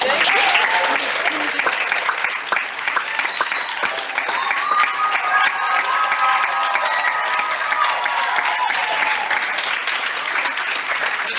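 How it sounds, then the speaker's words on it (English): An audience at a vocal department honors recital applauds young performers, a dense and sustained patter of many hands filling the hall for over ten seconds, with faint voices and a few cheers mixed in. "give these young people a quick round of applause"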